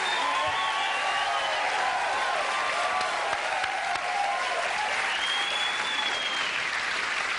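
Studio audience applause on a late-night talk show, dense and sustained, steady and loud for the full stretch with a faint whistle or cheer rising over it.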